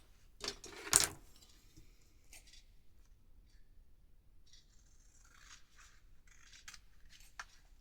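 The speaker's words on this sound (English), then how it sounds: "You could cut one side off and flip it over so that the other side matches." Scissors cut paper for a junk journal, a couple of crisp snips near the start, then faint, sparse rustling and cutting sounds in a very quiet room.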